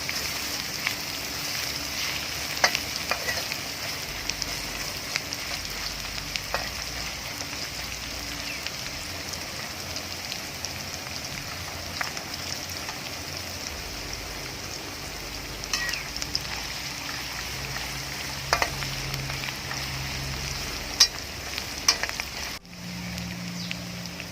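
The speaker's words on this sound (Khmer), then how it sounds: "បំពងវាឲ្យរាង ឆ្អិនល្អ ធ្វើបែបនេះដើម្បីកុំឲ្យខ្ញីរបស់យើង ខាងពេក" Sliced ginger and chicken frying in a pan, a steady low sizzle with scattered crackles running throughout, close and even, without speech.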